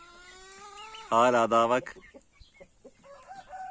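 A rooster gives one loud, brief crow close by among a flock of roosters and turkeys, followed by someone speaking and faint clucking.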